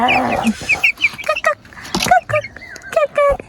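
Chickens cluck and chirp repeatedly close by, short choppy calls in an uneven rhythm, with some speech mixed in.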